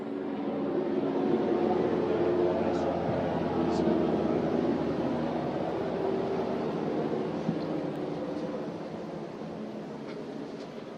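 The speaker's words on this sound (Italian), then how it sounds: "Fortuna ha voluto che ci è passato sopra un elicottero, per cui non abbiamo sentito" Helicopter flying overhead, a steady, heavy broadband rumble that blankets everything for the whole stretch, loud and constant with only a slight easing toward the end.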